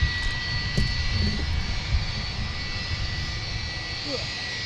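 An Icelandair airliner at Portland International Airport roars through takeoff as a steady, broad engine rumble from a moderate distance, with people talking over it.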